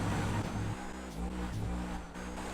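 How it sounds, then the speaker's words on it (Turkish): A modified fast car in GTA 5 drones with a low, steady engine roar that shifts slightly in pitch over a couple of seconds, with no voices. "Vay motorunun sesi acayip oldu yalnız ha. Duyuyorsunuz mu arkadaşlar sesi?"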